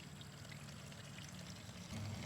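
Old fuel draining from the plug of a Ford cabover fuel tank, a faint steady pouring trickle with a low rumble that swells slightly near the end, no voices.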